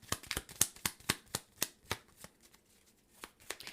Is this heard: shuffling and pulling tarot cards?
yes